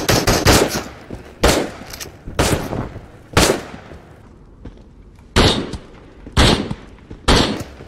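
Gunfire in the VR game Into the Radius: loud, close bursts and single shots in an irregular rhythm, several sharp reports separated by short pauses, each fading with a brief echo, with no voices.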